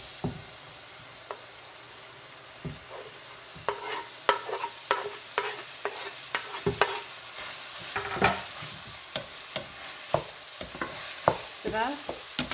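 Corned beef sizzles gently in a pot with cabbage while a utensil stirs it, giving soft frying crackle under a run of irregular scraping knocks and clacks close by, with no voices.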